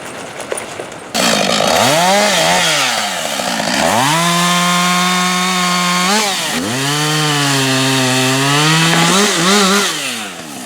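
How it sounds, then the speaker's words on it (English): A chainsaw runs loud and close on a snowy winter mountainside, its engine revving up and down in repeated surges, with no talking over it. "A chainsaw is usually needed as well."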